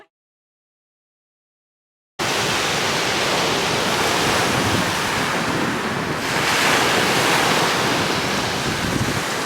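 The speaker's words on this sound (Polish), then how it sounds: "Wiatr wieje, ale jest przyjemnie. Fajnie! Tak rzeźko nad morzem" Strong wind and rolling sea waves on the coast at Batumi, a loud continuous roar of surf and gusts buffeting the microphone, starting abruptly after a short silence.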